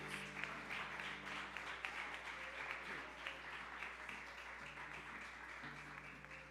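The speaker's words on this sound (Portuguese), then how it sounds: "Você pode aplaudir ao Senhor nessa noite?" A church congregation applauds during an evening worship service, with steady crowd clapping sustained throughout over a low organ or keyboard hum.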